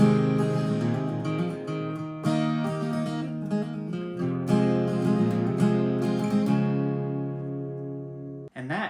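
Acoustic guitar picking the intro riff of a song at regular speed, a steady run of ringing plucked notes and chords played alone, close and moderately loud, ending with a brief pause and a final strum.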